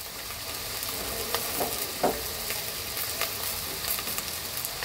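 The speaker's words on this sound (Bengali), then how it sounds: "তো গাজরটাকে একটু হালকা ভেজে নেব, দিয়ে দেব কাঁচা মরিচ, দিয়ে দেব ক্যাপসিকাম" Carrot frying lightly in a pan with green chili and capsicum, a steady soft sizzle throughout with a few faint stirring clicks, close and alone.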